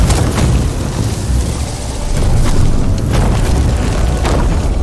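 An explosive barrel blows up in the pirate game Sea of Thieves, a loud deep boom with rumbling low-end blasts spread across the clip and no talk over it.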